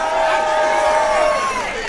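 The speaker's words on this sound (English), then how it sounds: "Let's give a real big round of applause" A concert crowd cheers loudly and continuously, with high whoops and shouted voices rising and falling over a dense roar of applause and cheering.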